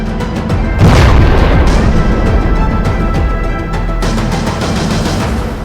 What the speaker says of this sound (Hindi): सुसाइड बॉम्बर ने धमाका कर दिया